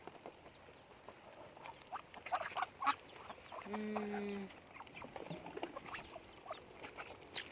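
Mixed-breed ducks on a farm, scattered quacks and short calls at close to middle distance over a quiet background, with a brief tonal sound partway through.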